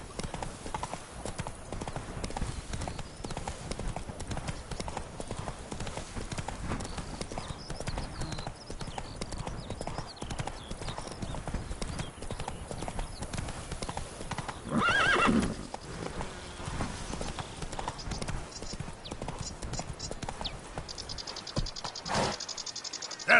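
Roach, the horse in The Witcher's Blood and Wine expansion, gallops with a steady rhythmic clip-clop of hooves, joined by a brief neigh partway through, over faint insect chirping and occasional speech.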